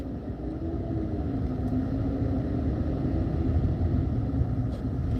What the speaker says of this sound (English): I'm in traffic now, y'all, trying to get to work.